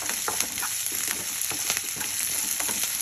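Drumstick leaves fry in a pan with a continuous close sizzle while being stirred, with repeated light scraping strokes through the brief stretch.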